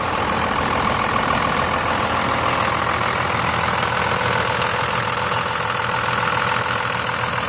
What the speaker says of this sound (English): It sounds great, it idles smoothly.